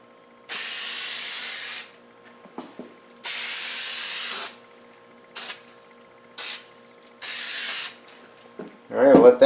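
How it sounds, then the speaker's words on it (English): Five bursts of hissing from a spray can on a Roundtail restoration, each one to two seconds long, separated by short pauses and faint clicks. "now I'll spray this side."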